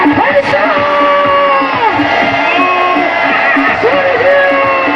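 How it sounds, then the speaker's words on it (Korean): A rally crowd outside the National Assembly cheers and shouts together, loud and continuous, with raised voices and whoops blending over a sustained roar for the whole stretch. "다시 한번 함성 발사!"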